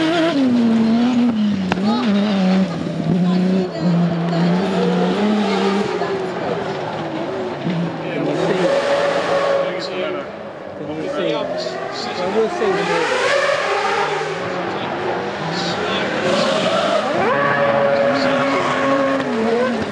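Race cars scream past one after another at the Goodwood Festival of Speed 2018, engines rising and falling in pitch with tire squeals, loud and continuous, with voices underneath.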